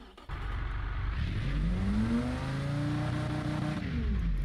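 An air-cooled V10 truck engine in the BeamNG driving game revs up steadily, its pitch climbing and sweeping across several seconds; the engine is loud and close, alone with no talk.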